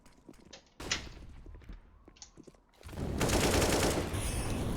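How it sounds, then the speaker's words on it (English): Burst-fire Glock pistol shots in Counter-Strike: Global Offensive, a few sharp separated cracks early on, then a dense, loud wash of gunfire and noise that fills the rest of the clip. "Oh, the burst Glock."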